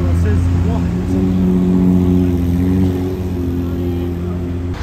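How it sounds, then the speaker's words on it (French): A loud black Ferrari 296 drives by close at hand, its deep engine note holding strong and steady with a slight rise and fall. No voices sound over it. "Plutôt sonore cette 296 noire"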